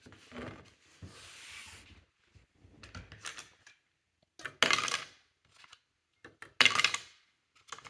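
An assembled vortex dice tower sends dice rolling and clattering down through it in a few separate bursts of rattling, close up, with quieter handling scrapes between the drops.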